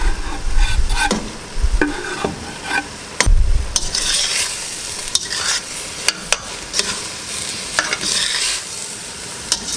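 Ground beef and garlic brown in a pan with a steady sizzle, broken by repeated scraping and stirring strokes from a utensil against the pan.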